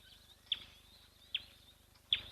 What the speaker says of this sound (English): the birds are very chatty and chirpy